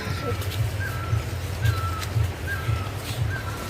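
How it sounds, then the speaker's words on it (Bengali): An unidentified bird repeats a short, thin call at a steady rhythm, a little distant, over a constant rushing background like flowing water, beside a river near Kasol, Himachal Pradesh. "আর এক অজানা পাখির ডাক"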